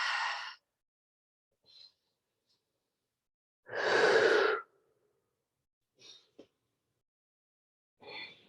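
Slow, deep breaths taken while holding a forward fold in a morning vinyasa yoga practice, with two long full exhalations and a few softer, shorter breaths in between, close and quiet with no talking.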